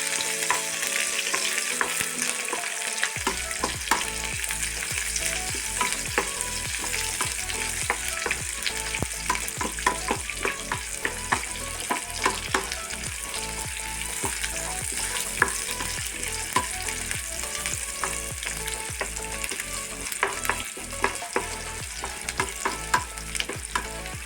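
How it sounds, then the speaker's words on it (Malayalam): Cumin and fennel seeds sauté in a hot pan, a steady crackling sizzle with frequent sharp stirring scrapes and clicks of a spoon, close and continuous after a brief quieter start. "ഒരു 1/4 സ്പൂൺ ചെറിയ ജീരകം, ഒരു 1/4 സ്പൂൺ പെരുംജീരകം, എല്ലാം കൂടി ഒന്ന് വഴറ്റിയെടുക്കണം."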